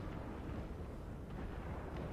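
Cannon fire rumbles in a Napoleon Total War battle, a continuous low, booming wash of distant artillery blasts with no talk.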